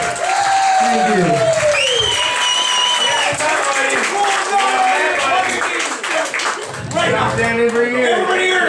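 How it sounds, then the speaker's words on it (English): Audience at a stand-up comedy show in Joliet, Illinois applauds loudly and steadily throughout, with dense clapping mixed with crowd noise and some voices talking over it. "let's everybody give a round of applause to Stanley."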